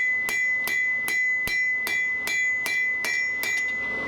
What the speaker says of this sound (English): Bringing it to that rounded edge of the anvil, I could set down a shoulder on it.